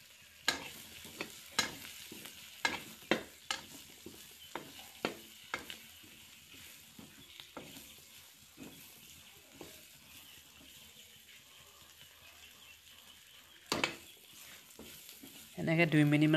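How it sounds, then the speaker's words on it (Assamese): Fried potatoes and fish curry being stirred in a kadai, repeated sharp clicks and scrapes of the spatula over a low sizzle, close by, with a louder clatter near the end. "এইখিনিও 2 মিনিটমান মই ভালদৰে ভাজি থাকিম।"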